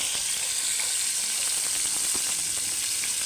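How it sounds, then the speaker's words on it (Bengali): Pangas fish pieces frying in hot oil, a steady close bright sizzle that holds evenly throughout, with faint crackles and pops scattered on top. "মাছগুলি ভেজে নেব তেলের ভিতরে।"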